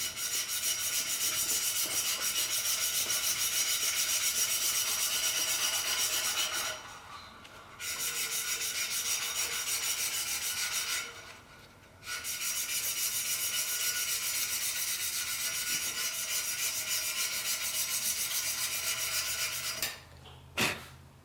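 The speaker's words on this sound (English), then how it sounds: "before I weld over this mill scale, this sandcloth makes it real easy" Sandcloth scrubs mill scale off a steel tube in three long stretches of steady, close, raspy rubbing, separated by brief pauses, with no talking.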